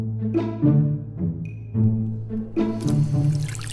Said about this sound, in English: Drink a glass of water.